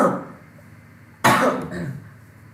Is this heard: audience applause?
no